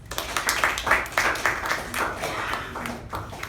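A small audience at a Toastmasters club meeting claps for a member who used the word of the day, a few seconds of scattered, uneven hand claps in a modest room.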